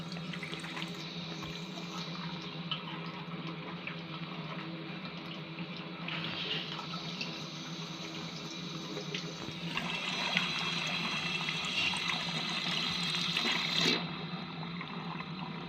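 Water runs steadily from a tap, a continuous hissing splash that grows louder midway before easing off near the end.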